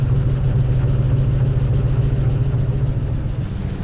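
A 1988 Chevrolet Caprice Classic wagon engine, running after 15 years of sitting and with a crushed exhaust pipe, idles steadily and loudly with a low, even rumble throughout.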